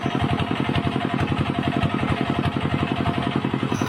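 A motorcycle engine idling nearby with a steady, rapid chugging pulse and mechanical clatter, continuous and fairly loud throughout.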